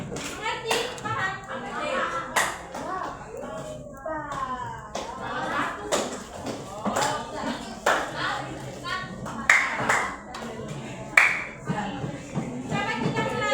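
Children in a classroom play a clapping game on a teacher's cue, bursts of sharp hand claps, some in unison and some scattered, mixed with chatter and the teacher talking throughout.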